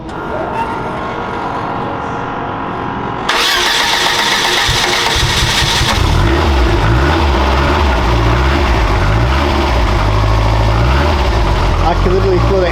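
A Lotus Esprit S4S Turbo engine cranks and catches with a sudden loud roar, then settles into a deep, rumbling idle heard up close, with a person talking excitedly over it.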